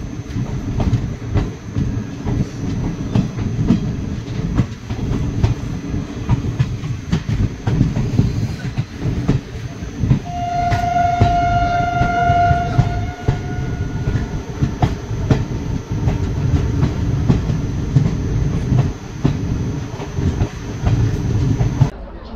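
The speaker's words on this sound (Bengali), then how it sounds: "ট্রেন এসে পৌঁছেছে নিমতিতা স্টেশন" The Malda-Howrah Intercity Express runs with a constant loud rumble and rattle of carriages on the rails, and its horn sounds once, sustained for about three seconds midway through.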